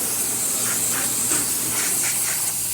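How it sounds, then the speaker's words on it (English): Steady, continuous hiss of steam jetting from the steam wand of a freshly serviced Zacconi espresso machine with a new boiler, close and loud, broadband and unbroken with slight pulsing, no voices. "nice steady steam coming out of the machine."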